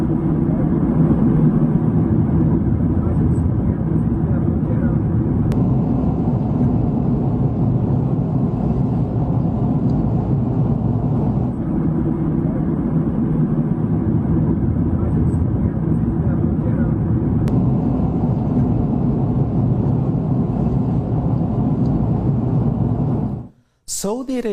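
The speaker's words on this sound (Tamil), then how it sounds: "ஜெத்தாவில் விமானம் தரையிறக்கப்பட்டது." A prime minister's airplane landing at Jeddah, a loud steady engine roar that rumbles on for over twenty seconds before cutting off abruptly near the end.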